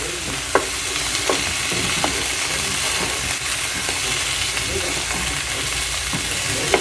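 Chopped garlic sizzles steadily in a pan as a spoon stirs it, with a few sharp scrapes and clicks of the utensil against the metal breaking through the constant, close frying hiss.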